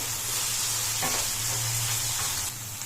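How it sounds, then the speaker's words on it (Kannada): Capsicum, carrot and beans stir-frying in a pan give a steady, close hiss and sizzle with faint scraping stirs, running unbroken with no talk. "ಈಗ ನಾನು ಕ್ಯಾಪ್ಸಿಕಮ್ನ ಹಾಕೋತಾ ಇದ್ದೀನಿ. ಇದನ್ನು ಹಾಕೊಂಡು 2-3 ನಿಮಿಷ ಚೆನ್ನಾಗಿ ಫ್ರೈ ಮಾಡ್ಕೊಳ್ಳಿ."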